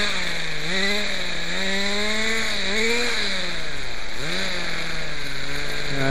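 A Quickie 18 cut-off saw with a hard-starting fault has its engine revved up and down, the loud, steady motor whine climbing and falling in pitch several times as the throttle is opened and eased back.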